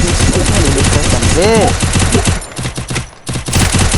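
Rapid automatic gunfire in the Free Fire video game's zombie mode rattles loud and continuous, with a short swooping game effect midway and a voice talking over it.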